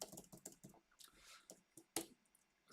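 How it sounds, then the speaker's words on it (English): Someone types quickly on a computer keyboard, with uneven bursts of close clicking keystrokes, a brief pause and then a few more sharp taps. "this is my bad typing."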